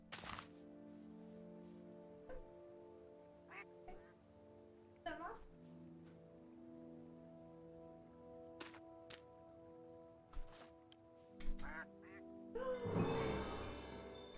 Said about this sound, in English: You hear their little quacks?